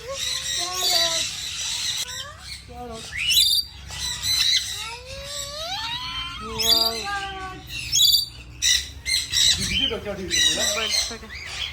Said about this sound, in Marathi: हा बघा व्हायरल पोपट